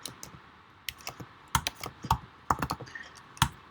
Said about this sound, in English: So let's go ahead and type playwright